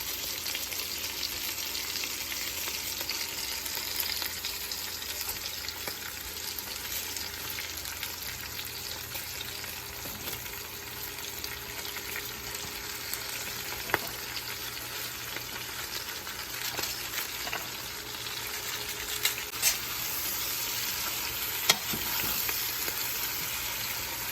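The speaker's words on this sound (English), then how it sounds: "Start adding the cabbage, a little bit at a time, so it can wilted." Cabbage added a little at a time to a pot of oxtails sizzles in a steady, even hiss, with a few soft stirring knocks and clicks, close and continuous with no talk.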